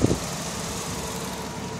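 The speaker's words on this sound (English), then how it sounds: "Seems to be running beautiful. Holding 600 RPM." A 1982 Jaguar V12 idles smoothly and steadily at about 600 RPM, a close, even mechanical hum with no other sounds.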